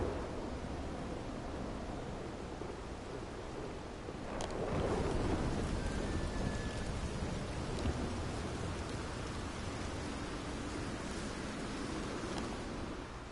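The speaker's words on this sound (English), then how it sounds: "There's some really heavy storm." A heavy thunderstorm with rain in the video game Red Dead Redemption 2: a steady wash of downpour, swelling with a loud rolling thunder crack partway through, then settling back into constant rain.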